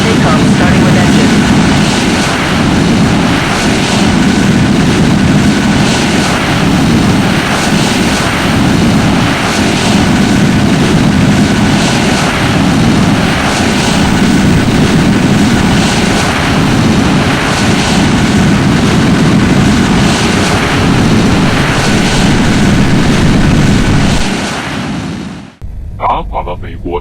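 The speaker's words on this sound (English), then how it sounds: "Go for takeoff starting with engine." Engine of a Lockheed Martin Skunk Works Darkstar jet fighter spooling up for takeoff, a loud, sustained roar with pulsing rhythm that holds steady for about twenty-five seconds before cutting off abruptly.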